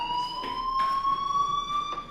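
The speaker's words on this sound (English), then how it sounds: "Hey, do you hear that fire alarm?" A fire alarm in the video game Life Is Strange rings as a steady, loud electronic tone with faint periodic pulses, continuous throughout with no speech.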